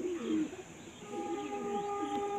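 A triple patti pigeon gives soft, low cooing near at hand, a few rolling coos over faint steady background hum.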